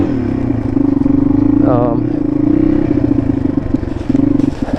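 Small dirt motorcycle, a CRF, revving steadily and loudly up a short hill climb, the engine note holding a steady drone with a brief rising whine midway and some clattering.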